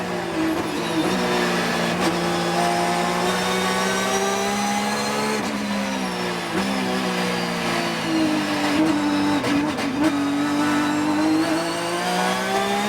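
Onboard race car engine at Mid Ohio, a loud, sustained high-revving drone that rises and dips through gear changes and corners, heard up close with no talking.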